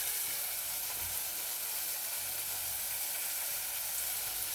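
A curry sizzles and fries steadily in a pan with chilli powder added, giving a continuous hiss at an even level throughout with no pauses.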